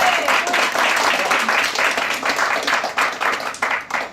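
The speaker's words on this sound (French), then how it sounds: "qu'on peut applaudir" A Paris awards-ceremony audience claps loudly and densely, a full sustained burst of applause that tails off slightly near the end.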